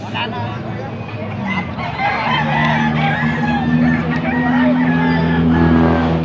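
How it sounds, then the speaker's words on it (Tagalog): Roosters crow repeatedly and chickens cluck amid the steady din of an outdoor fowl market, loud and close, with voices and background bustle mixed in. "marami siyang dalang manok"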